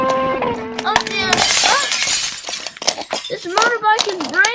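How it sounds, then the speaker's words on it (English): A toy motorbike breaking apart, with a wheel and mirror coming off, gives a burst of crashing, shattering clatter followed by scattered snaps and clinks, while children's voices talk and exclaim around it. "This motorbike is breaking."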